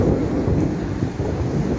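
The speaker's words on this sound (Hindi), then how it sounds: "देख लें जी बारिश कितनी ज़्यादा है" Dense, steady roar of a heavy downpour, loud and continuous without pauses.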